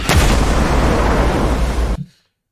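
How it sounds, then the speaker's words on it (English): A van blows up in a single loud, close blast whose dense rumbling roar holds for about two seconds, then cuts off abruptly into silence. "Blew the whole van up."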